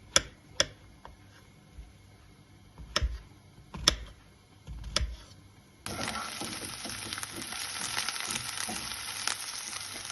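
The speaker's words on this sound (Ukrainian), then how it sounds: "цибуля наша обсмажилася, додаємо порізані шампіньйони" Sliced mushrooms are added to onions in a pan after several sharp knocks and clatters, and a dense, steady frying sizzle takes over for the second half.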